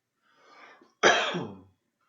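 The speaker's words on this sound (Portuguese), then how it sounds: "Eu estou tossindo bastante" A faint throaty rasp is followed by one sharp, close cough that trails off, then quiet.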